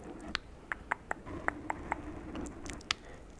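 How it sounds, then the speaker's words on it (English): Scattered raindrops tapping quietly on a surface in an irregular patter over a soft, low rumble. "can you just listen to those raindrops?"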